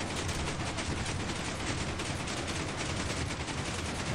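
A weapon in a video game fires continuously, a dense rapid stream of steady gunshots held at an even level without pause or voices.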